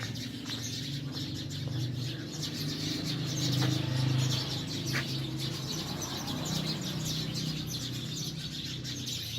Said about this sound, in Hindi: यहाँ पर चिड़ियों की आवाज़ें आ रही हैं इस वाले दरख्त से